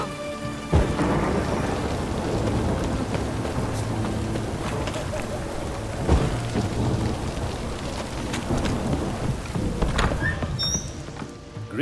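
Rain pours steadily in The Witcher 3 while thunder rumbles through it, with heavy drops hitting surfaces throughout and a louder crack partway in. A few game sounds and faint voice-like elements sit under the storm.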